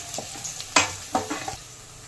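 Onions and small roasted shallots frying for Chettinad chicken curry, a few quick spatula scrapes and stirs over soft sizzling, close and brief, with no voices.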